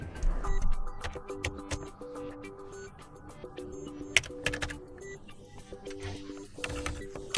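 Rapid typing of a code on a phone or computer keyboard, a brisk run of close, crisp clicks and taps with a faint electronic tone underneath and no voices.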